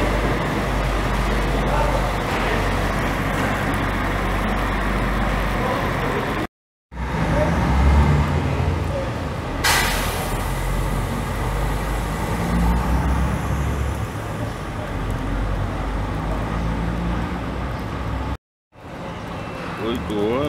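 A coach pulls out of a bus station in Governador Valadares, its steady engine rumble and road noise running loud and continuous, with two brief dropouts partway through.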